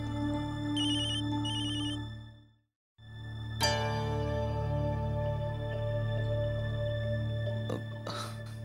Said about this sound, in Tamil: யார் ஃபோன் பண்ணாங்க?